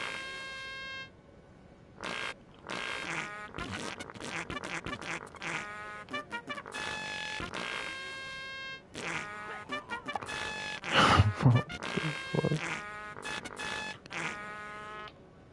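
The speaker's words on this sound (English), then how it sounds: "They really found a way to make this into a farting thing." Buzzy, brassy flugelhorn-style fart sounds in South Park: The Fractured But Whole, a series of sustained tonal blasts of varying length and pitch separated by short pauses, loud and alone without talk.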